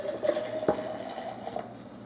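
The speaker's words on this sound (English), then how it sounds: "we're going to pour the rest of the water in, but we're gonna be careful with it" Hot water pours into a French press in a soft, steady trickle with a faint splash at the start, close by and fairly quiet.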